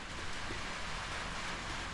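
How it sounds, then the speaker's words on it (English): Steady rain falls outside as a soft, even hiss of broadband noise, constant and moderately loud, with no talking. "You can probably hear it's raining again now"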